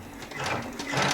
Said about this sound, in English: I'm going to go ahead and start embroidering.